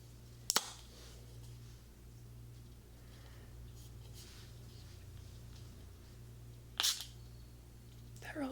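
Makeup Forever Mist and Fix setting spray hisses in two short, sharp bursts, close and clear, separated by several seconds of quiet room tone.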